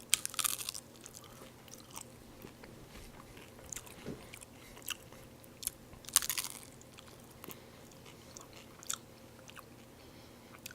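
Quiet, close-up bites and crunches into a crispy spaghetti taco with meat sauce, followed by irregular chewing and scattered sharp crackles, no talking.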